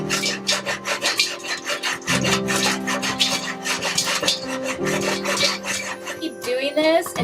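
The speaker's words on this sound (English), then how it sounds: "once the kernels start slowing down, like there's only one or two really popping in there" Popcorn kernels pop in a pan that is shaken continuously, dense crackling and rasping scrapes running steadily throughout with a faint hum underneath.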